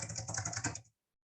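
Rapid typing on a computer keyboard, a quick run of close, distinct key clicks lasting under a second, then silence.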